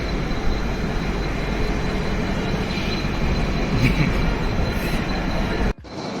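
A Konkan Railway train running, a steady loud rumble and rattle of wheels heard from inside, cutting off abruptly near the end.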